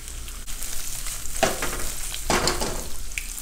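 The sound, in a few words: eggplant frying in oil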